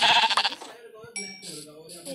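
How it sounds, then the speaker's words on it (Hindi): A sheep in the Minecraft video game bleats in short wavering calls after a brief burst of talk, the game's bleats repeating two or three times close and clear. "शीप, बकरी बोल रहे हैं"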